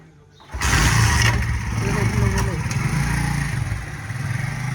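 A motorcycle engine starts up close by and settles into a loud, steady running rumble with slight revving, while people talk over it.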